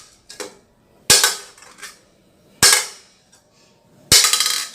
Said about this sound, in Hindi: ये जो हमारी पॉलीमर बॉल्स होती है उसमें से आवाज कैसे आएगा